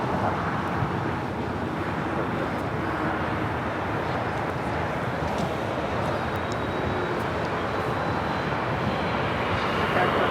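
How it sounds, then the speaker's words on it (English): An Air China Cargo Boeing 747 freighter at Los Angeles airport produces a loud, dense, unbroken engine roar that holds steady throughout, a broad rumbling wash with no pauses. "That is the Air China cargo, 747 heading to 25 right here on the south side."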